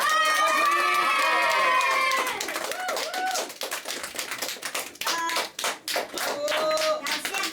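Audience clapping at a children's magic show, with excited voices and cheering at first, then brisk close handclaps continuing loudly to the end.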